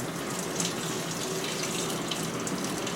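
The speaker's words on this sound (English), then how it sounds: "Even though it's already saturated with water, it still has to turn while it fills" A 2006 GE Profile washing machine fills with water, a steady close rush of flowing water alongside a low churning hum, continuous and even throughout with no talking.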